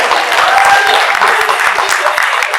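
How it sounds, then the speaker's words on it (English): Dense audience applause fills a summit hall, steady and loud from start to finish with no break. "this is where you clap."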